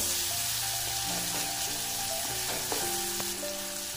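Tomatoes and curry leaves frying in oil for dal make a loud, steady sizzle with faint stirring scrapes, heard alone and close up.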